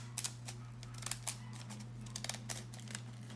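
Scrapbooking scissors with a patterned blade cut through a paper bag for a jellyfish craft, giving several crisp, close snips and crunches spaced irregularly over a low steady hum.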